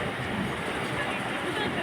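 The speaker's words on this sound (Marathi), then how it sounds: "आता अशी रेल्वे हळूहळू बाहेर पडताना आपण बघत आहोत" A steady, dense rumble of a train rolling slowly along rails, continuous and moderately loud throughout, with faint background murmur.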